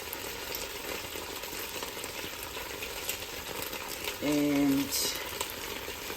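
Pork ribs searing in avocado oil, a continuous moderate frying sizzle throughout, joined late by a brief tonal hum or beep, with faint talk.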